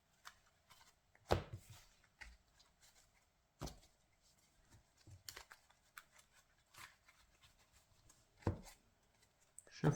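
Cardfight!! Vanguard trading cards being shuffled by hand, heard as a few sharp riffling bursts and scattered soft taps and slides across a quiet background, close and fairly faint.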